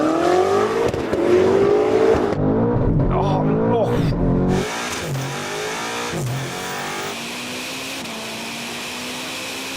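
Engines of a Ferrari and a 1000 hp BMW M5 rev and accelerate hard in a drag race, a loud sustained roar with a rising pitch sweep mid-run, then a steady drone, with voices talking over it.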